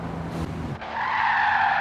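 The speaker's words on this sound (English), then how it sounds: "Oh, that was a decent drift" A Toyota Supra drifts, its tires skidding into a loud, sustained squeal that rises and holds steady over the engine rumble.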